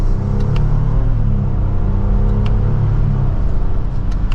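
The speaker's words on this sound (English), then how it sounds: "Twin turbo V6 has a good exhaust note to it" A 2024 Lexus GX550 SUV with a twin-turbo V6 accelerates from second gear, a deep, steady engine rumble heard from inside the cabin, loud and continuous with a few faint clicks.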